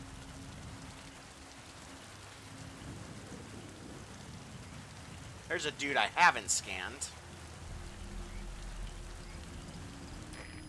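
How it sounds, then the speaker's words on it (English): Steady rain patters in the Metal Gear Solid V video game with a low rumble of thunder beneath it, while someone talks briefly in the middle and the rainfall continues on its own. "Rainfall should help to mask your footsteps."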